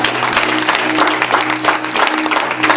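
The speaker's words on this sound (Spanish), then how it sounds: "Denle un aplauso al Señor." A church congregation applauds steadily, a dense continuous clatter of many hands filling the room at close range without pause.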